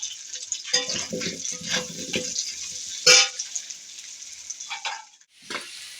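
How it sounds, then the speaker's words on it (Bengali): Potatoes frying in oil in a pan with a sprinkle of turmeric, a continuous hissing sizzle broken by stirring scrapes and one sharper spatter burst midway. "আলুটা আমি দশ মিনিট কষে নিলাম আলুটা বেশ লাল হয়ে গেছে"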